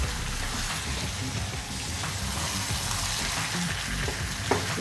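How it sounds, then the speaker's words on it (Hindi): Salted mutton fries in a pan while being stirred, producing a dense, continuous sizzle like rain, close and loud, with faint utensil knocks near the end. "और कभी थोड़ी सी तेज आंच पे हम लोग घुमाते रहेंगे, ताकि जो हमारा मटन है वो नीचे लगे ना।"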